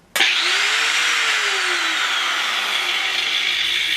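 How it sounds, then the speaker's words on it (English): An angle grinder kicks on abruptly and spins up into a loud, sustained high whine with a slightly shifting pitch, running steadily and close by for the rest of the moment. "I have my angle grinder plugged in and I'm gonna turn it on with these wires"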